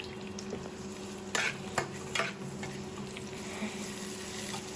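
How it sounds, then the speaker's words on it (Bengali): Green chillies, onion and garlic frying in hot oil for a Bangladeshi boal fish curry give a quiet, steady sizzle, broken by a few sharp clinks and scrapes of stirring. "তেল গরম হওয়ার পরে কাঁচামরিচ দিয়ে দিচ্ছি, সাথে কিছু পেঁয়াজ রসুন। এখন এগুলোকে ভালোভাবে ভেজে নেব।"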